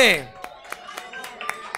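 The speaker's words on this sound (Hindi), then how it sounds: "काजल के लिए तालियां प्लीज जरा से" A handful of people clap for a singer named Kajal, sparse, separate claps spaced irregularly after a brief voice at the start, with no full applause building up.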